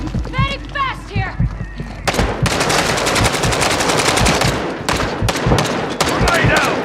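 Rapid machine gun fire in a video game rattles in dense, loud bursts after a brief shouted voice at the start, with heavy thumps mixed in and a short pause near the end.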